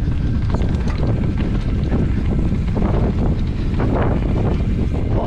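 Strong wind roaring over a microphone on a mountain bike trail, a loud, continuous buffeting rumble that fills the whole stretch without a break.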